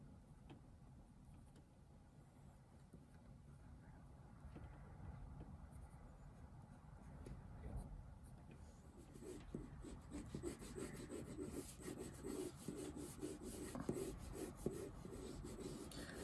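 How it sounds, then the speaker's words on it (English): Pencil scratching and rubbing on paper while making a small preliminary comic sketch, a faint, close dry rasping that grows busier and more rapid in the second half, with no talk. "Usually before I start any drawing, I'll do a little tiny version of it just to kind of do a little sketch"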